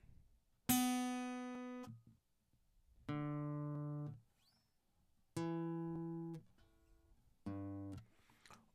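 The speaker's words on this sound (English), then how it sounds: "I could play a single note" Four separate guitar notes, each plucked alone and left to ring for about a second before fading, with short silences between them; clear and close, no talking.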